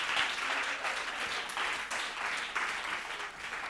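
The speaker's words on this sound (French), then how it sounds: "Merci, sous vos applaudissements." A studio audience applauds steadily at the close of a French televised news-presentation contest semi-final. The dense clapping swells and eases in rolling waves and plays on its own without speech.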